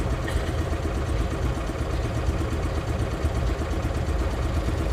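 An Invacar's small engine runs steadily while driving through London, a constant low buzzing drone with a faint rhythmic pulse and no talk over it.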